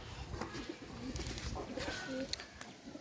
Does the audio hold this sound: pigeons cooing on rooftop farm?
yes